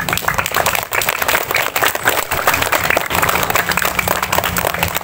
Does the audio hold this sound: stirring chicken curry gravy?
no